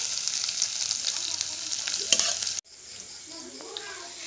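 Sliced Bombay onions hit a hot pan and sizzle loudly while being stirred for a chicken liver and gizzard adobo; steady frying hiss that drops sharply partway through, then continues more quietly.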